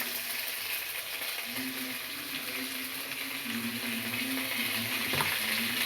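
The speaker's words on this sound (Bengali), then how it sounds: "পেঁয়াজ আর রসুনের পেস্টটা একটু দিয়ে দিচ্ছি দিয়ে দিলাম এবার দিয়ে দিচ্ছি কাঁচা লঙ্কা পেস্ট" Onion, garlic and green chilli paste fries in oil for a crab curry, making a continuous, moderate sizzle with faint stirring scrapes and a low hum underneath.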